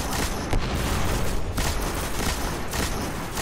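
Sustained, dense gunfire from the video game Destiny, a continuous loud rattle with overlapping blasts filling the whole stretch without pause.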